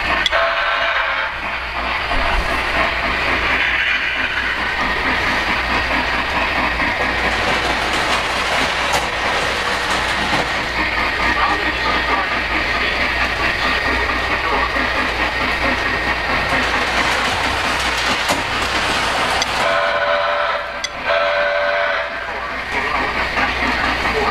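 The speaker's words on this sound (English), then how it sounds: "As you can see now, we have reverse direction on the Polar Express passenger train." Model Polar Express passenger train running in reverse on a layout track, a steady close rolling rumble with clickety-clack of the wheels that carries on throughout, with a brief lull near the end.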